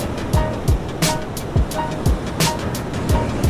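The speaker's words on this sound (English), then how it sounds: "There's the whitewater crumble from that wind change" Breaking whitewater from an ocean wave at a surf contest crumbles in a steady rushing wash, broken by a run of sharp, regularly spaced bursts of spray.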